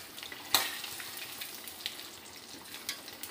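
Chicken frying for a home-cooked Eid meal, a continuous close sizzle with a sharp crackle early on and scattered pops throughout, no talk.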